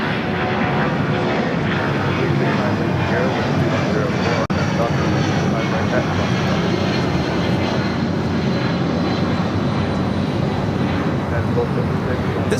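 Delta Airlines Boeing 757-200 taking off from LAX bound for Washington Reagan National, a loud sustained jet engine roar that fills the whole stretch, dense and unbroken, with voices mixed in beneath.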